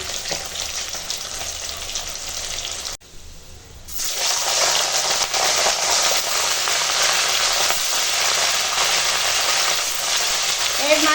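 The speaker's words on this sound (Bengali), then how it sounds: "মাছ ভেজে তুলে নিয়েছি ওই তেলেই পেঁয়াজ দিয়ে দিলাম পেঁয়াজটা একটু ভেজে নেব" Onion frying in hot oil left in a pan after fish was fried, a steady loud sizzle throughout with a brief near-silent gap early on.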